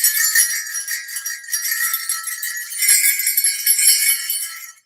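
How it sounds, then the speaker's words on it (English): Small bells jingle continuously, a bright, tinkling shimmer that swells and fades in waves. It sounds close and fairly loud, with no voices. "So medium bell is right here."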